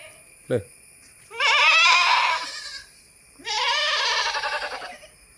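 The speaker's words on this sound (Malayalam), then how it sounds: "രണ്ടാം പ്രസവത്തിലുള്ള ഒരാട് ആട് നല്ല ഇറച്ചിയുള്ള ആടാട്ടോ" Goats bleating at a livestock sale, one short call followed by two long, loud, wavering bleats close to the microphone, with quiet background otherwise.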